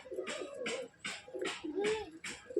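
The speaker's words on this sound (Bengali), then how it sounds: "অনেকগুলি পায়রা আছে" Pigeons from a home loft collection of fancy breeds coo in a repeating series of soft throaty calls, close by and fairly quiet, with light rustling between calls.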